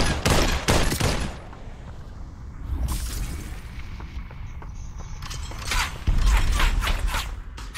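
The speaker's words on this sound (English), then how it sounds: "we got shots over right there" Gunfire in the VR battle royale game Population One, a burst of rapid shots up front at the start and another cluster near the end, with mechanical clanks and creaks in between.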